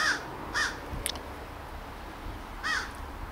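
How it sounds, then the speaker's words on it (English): Crows caw outdoors over a garden: three clear, separate calls at moderate distance, with a faint click between them against a low background hum. "the crows seem to be barking away"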